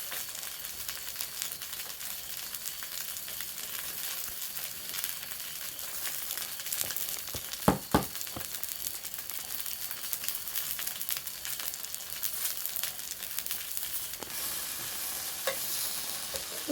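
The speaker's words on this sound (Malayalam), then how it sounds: "ഇതിലോട്ട് ചീസൊക്കെ ആഡ് ചെയ്ത് നമ്മളിത് പൊരിച്ചെടുത്തിട്ടുണ്ട്" Chicken burger patty topped with cheese frying in a pan, giving a steady, continuous sizzle throughout with a few brief sharper crackles and scrapes near the middle.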